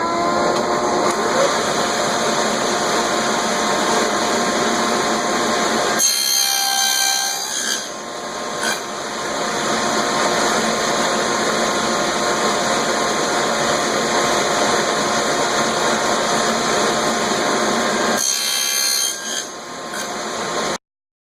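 Table saw fitted with a miter gauge and a tall auxiliary fence cutting a wooden panel for a baking board, a loud continuous whine and rumble broken by two brief drops where the blade spins freely between passes.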